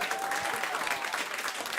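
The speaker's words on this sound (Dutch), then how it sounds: "Applaus voor Siebrand." Steady audience applause at a live Dutch comedy and poetry show, moderately loud and continuous for the whole moment with no voices over it.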